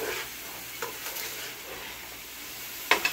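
Freshly sliced mushrooms stirred together in a pan with peanut oil, giving a steady soft sizzle and scraping under the stirring, with a couple of sharper utensil clinks near the end and no talk.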